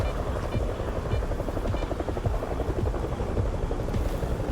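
Helicopter rotor chopping in the S.T.A.L.K.E.R. 2: Heart of Chornobyl video game, a steady dense thumping drone holding at even loudness throughout with faint voice-like sounds mixed in.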